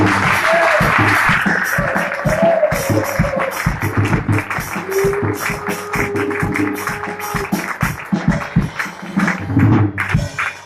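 A church congregation in Etoudi applauds and cheers for the Lord during a worship conference, with sustained rhythmic hand clapping and raised shouting voices filling the room throughout.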